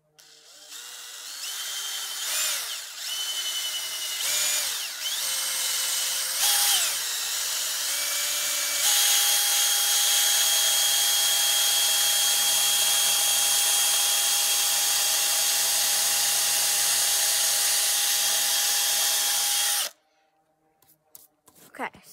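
A power drill bores an upward-angled hole into a birch tree trunk, whirring in short bursts, then running steadily at high pitch for several seconds before stopping abruptly; the drilling is close and loud.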